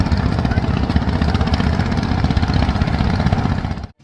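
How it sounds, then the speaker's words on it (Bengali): Racing vehicle engines at an amusement park drone loudly and continuously, a dense close buzzing roar that holds steady for several seconds before abruptly cutting off at the end. "দেখুন রেসিং চলছে।"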